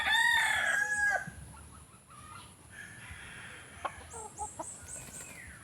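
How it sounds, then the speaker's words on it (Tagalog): A small bantam rooster crows loudly and close at the start, followed by softer clucks and scattered farmyard sounds. "Mayroon pala dito sa amin bantam na manok mga guys."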